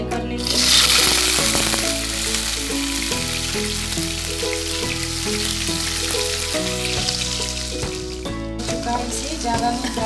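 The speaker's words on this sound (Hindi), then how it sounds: "तेल भी गरम हो चुका है, तो इसमें हम पहले पनीर को फ्राई कर लेंगे।" Paneer fries in three spoons of hot oil in a pan for a restaurant-style mixed vegetable dish, giving a steady, close sizzle that runs through the whole clip beneath background music.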